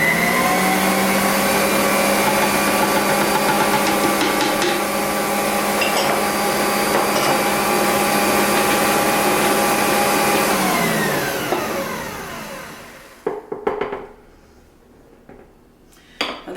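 Electric mixer beating cookie dough, a loud continuous whirring drone that winds down near the end, followed by a few clattering knocks.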